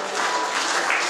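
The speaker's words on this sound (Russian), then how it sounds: "Ему наши аплодисменты" Congregation applauding in a church service, a dense, steady wash of many hands clapping together at close range for the whole moment, with no voices standing out.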